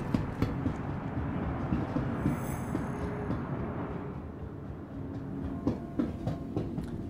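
A train at a video-game spaceport rumbles steadily with low mechanical noise and occasional clacks and clunks, while a faint high tone sounds briefly.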